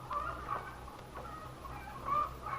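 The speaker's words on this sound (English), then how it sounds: "Sounds like the chickens are extra hungry this morning." Chickens clucking in a farmyard on a morning, a few soft repeated calls rising and falling at moderate distance over a low steady rumble, no voices.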